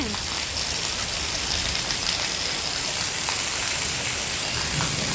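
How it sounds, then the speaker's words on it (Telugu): Heavy rain pours down at night in a village during a thunderstorm, a dense, steady outdoor hiss with a faint voice murmuring beneath it. "వాన చూడండి అసలు ఎట్లా పడుతుందో మామూలుగా పడట్లేదు"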